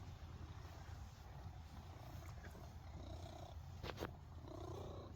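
A steady, rough purring drones continuously, loud and close, with a brief faint click or two partway through.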